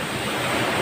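Rough sea surf surging and splashing near an island shore, a continuous loud wash of water with wind noise across the microphone and no speech.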